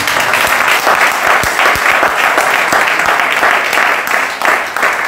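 A church congregation breaks into loud, sustained applause acclaiming the Lord, a dense, even wash of many hands clapping close by throughout.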